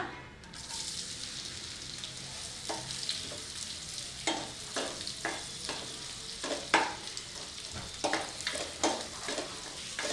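Onions fry in butter with cinnamon and cloves over a medium flame for a mushroom curry, a steady close sizzle broken by regular stirring scrapes, with no talk.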